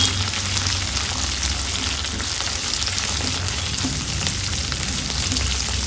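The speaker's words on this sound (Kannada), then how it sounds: "ಒಂದು 3 ಹಸಿರು ಮೆಣಸಿನಕಾಯಿ, ಚಕ್ಕೆ, ಲವಂಗ, ಏಲಕ್ಕಿ, 1 ಗಡ್ಡೆ ಬೆಳ್ಳುಳ್ಳಿ, ಶುಂಠಿ, ಒಂದು 10 ಗೋಡಂಬಿಯನ್ನು ಸೇರಿಸ್ಕೊಂಡು ಚೆನ್ನಾಗಿ ಫ್ರೈ ಮಾಡ್ಕೊಳ್ಳೋಣ." Coconut, green chillies, cinnamon, cloves, cardamom, garlic, ginger and cashews fry in hot oil with a loud, dense, unbroken sizzle that holds steady throughout, with no talking.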